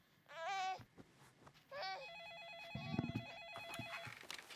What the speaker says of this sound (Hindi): फोन बज रहा है, ये लो कबीर को।